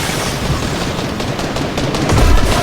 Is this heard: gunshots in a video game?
yes